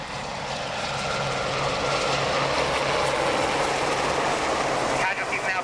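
Hawk jets run in for a strike during a commando assault display at Yeovilton Air Day, a loud steady jet roar filling the sky with a commentator talking over it.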